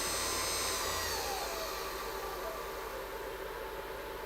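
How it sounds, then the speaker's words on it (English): CNC machine spindle spinning up to a higher speed on a newly built 4030 PROver router, a steady, close whirring whine with a broadband hiss that holds constant throughout. "we'll just turn up the spindle speed so you can watch it actually rotating round"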